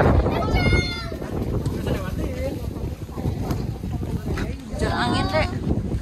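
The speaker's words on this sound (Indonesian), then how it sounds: "Hujan angin, Dek." Strong wind and rain during a flood, a steady broadband roar with gusty surges throughout, close and loud, with people talking over it.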